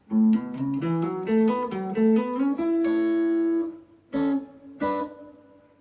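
A clean electric guitar plays a melodic lead in paired harmony notes, a quick run of phrases followed by a long sustained chord and two short closing stabs.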